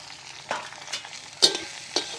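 Onion, green chili and tomato fry in a pan for mutton chops ghee roast, with a low steady sizzle broken by a few sharp stirring scrapes near the mic.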